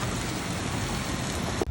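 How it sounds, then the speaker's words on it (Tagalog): Heavy rain pouring steadily in an outdoor setting during a neighborhood fiesta, a dense continuous hiss with no talk over it. "O, kusaging ulan."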